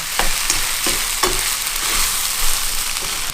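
Macaroni pasta with spicy chicken sizzles and fries in a pan while it is stirred, with a constant hiss and occasional scraping strokes, close by and without speech.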